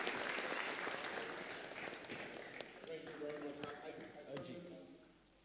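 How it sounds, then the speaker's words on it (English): An audience at a conference event for Agenda 2018 claps steadily for a closing speaker. The dense applause fills the room and slowly fades, and a voice talks faintly underneath it. "A round of applause for Mr. Biodun Famojuro."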